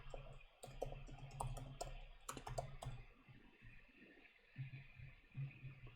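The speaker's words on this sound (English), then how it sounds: "Let's type in here dragon scale." Quiet typing on a computer keyboard while coding a JavaScript game, irregular clusters of soft close keystrokes over faint room hum.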